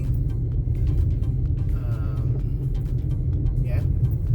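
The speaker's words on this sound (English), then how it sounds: "Okay, so now we're still driving." A car driving along the road at night in rain or snow gives a steady low rumble of engine and tyre noise throughout, with a few faint clicks on top and a voice speaking briefly.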